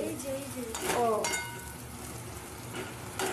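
A pan sizzles and crackles steadily as onion and poppy seed paste fries, with occasional stirring scrapes and a brief voice in the background.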